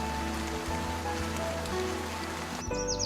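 Heavy driving rain pelting a wetland, a dense steady hiss of drops on water and surfaces, loud and continuous, with a brief shift in texture near the end.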